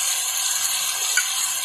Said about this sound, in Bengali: এবারে আমি দিয়ে দেবো সামান্য জল।